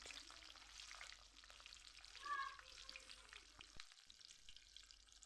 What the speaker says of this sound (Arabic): فانا مهدية الزيت هنا، يعني مخفضة النار كده للنص، وابدأ انزل بقطع البانيه